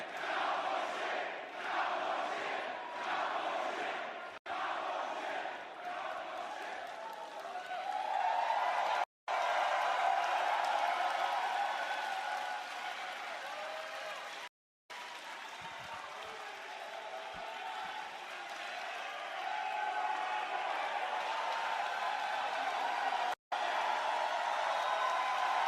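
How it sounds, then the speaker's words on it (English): A large arena crowd at an AEW Dynamite wrestling event roars, cheers and applauds continuously, a dense, sustained wall of noise at a distance with a few brief dropouts. "Crowd is still loud."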